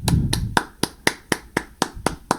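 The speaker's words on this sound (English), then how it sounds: "I just have to kind of clap my hands" A single person claps his hands on stage before a show, about nine sharp, evenly spaced claps, close and clear, with a brief murmur of noise at the start.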